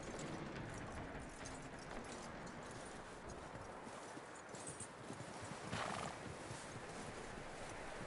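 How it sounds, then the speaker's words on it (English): A horse in the video game Red Dead Redemption 2 neighs and whinnies over a continuous patter of hoof clip-clops and rustling ambience, close and fairly steady throughout. "That looks like a decent horse."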